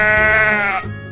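A single loud, wavering sheep bleat sounds close up and ends sharply after under a second, heard alone within a children's animal video.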